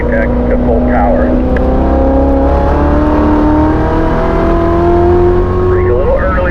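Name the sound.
race car accelerating to full throttle out of a corner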